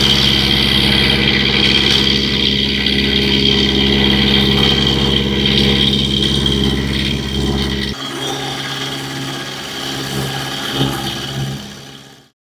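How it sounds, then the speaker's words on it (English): An end mill cuts away weld beads on a steel stretcher for a 5-inch gauge model locomotive, a loud steady machine drone with a humming motor that drops off abruptly partway through, then runs down quieter. "quickly run an end mill over those horrible beads"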